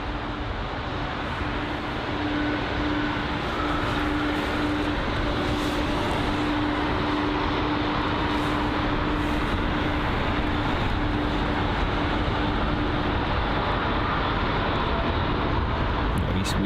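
Qantas Airbus A380 jet at London Heathrow, a steady broad engine roar filling the whole stretch at constant level, with a held tonal hum running beneath; faint voices can be made out under it.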